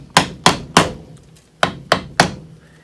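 Chisel being struck with a mallet to clean out a wooden mortise for spice shelf doors: six sharp, close thwacks, three in quick succession, a short pause, then three more.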